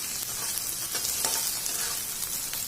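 Potatoes sizzle as they fry in a pan for masala chana chaat, a close, steady hiss broken by a few soft stirring scrapes, with no talking.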